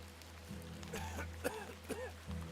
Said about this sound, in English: I do hear someone coughing.